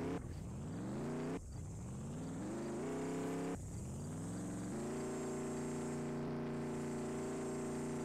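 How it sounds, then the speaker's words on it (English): A Camaro engine in the video game Mad City: a continuous synthetic motor drone that rises in pitch through gear shifts, drops and climbs again, then holds a steady cruising tone, close and loud with no talking. "Let me spawn in the Camaro again."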